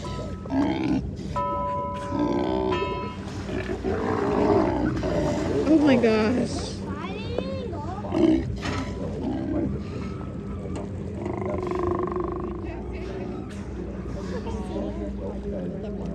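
Sea lions roar and grunt near a whale-watching boat at Icy Strait Point, Hoonah, with deep, rough calls rising over a steady boat drone while people talk and exclaim.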